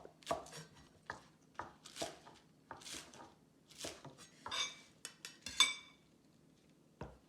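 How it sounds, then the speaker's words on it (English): Knife chopping green onions on a cutting board, a run of sharp, fairly close thumps in uneven bursts with pauses between strokes, plus a light clink near the end. "Cut the green onions."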